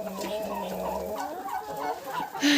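A turkey gobbles at close range, a short warbling series of calls over quiet farmyard background.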